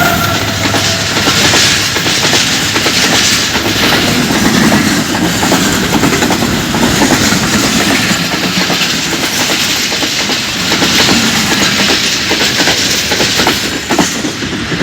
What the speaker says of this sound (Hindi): यहाँ से ट्रेन क्रॉस हो रही है।